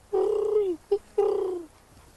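A man imitates a great horned owl with low, deep hoots: a long drawn hoot, a short clipped one, then another long falling hoot, close and alone.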